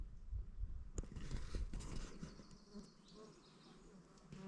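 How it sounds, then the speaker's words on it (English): Mosquitoes swarming around a hiker's head on the Pacific Crest Trail, a close, fluctuating insect whine over wind and rustling from movement, with occasional thumps. "Oh, they're fucking mosquitoes."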